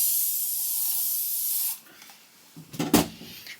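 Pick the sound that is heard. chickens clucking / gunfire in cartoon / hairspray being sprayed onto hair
hairspray being sprayed onto hair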